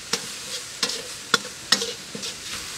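Spring onions tossed into a hot pan of Japanese fried rice, heard as a handful of quick spatula stirs and scrapes, each a short sizzling burst, close and fairly crisp with no voices.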